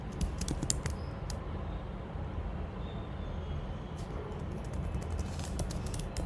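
Code being typed on a computer keyboard while building a Spring application: quiet, irregular runs of light key clicks over a steady low background hum, with no talking.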